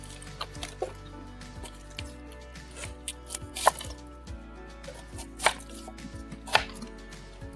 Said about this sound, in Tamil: வாங்க வெங்காயத்தை வெட்டிடுவோம்.